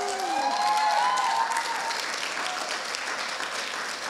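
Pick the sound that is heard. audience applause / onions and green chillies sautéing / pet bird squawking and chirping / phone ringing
audience applause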